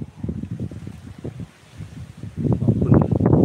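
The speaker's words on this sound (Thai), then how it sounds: "ลมแรงแรง" Strong wind gusts buffet an outdoor spot as rain clouds gather, a rough, rumbling roar that eases briefly and then swells louder toward the end, with no voices.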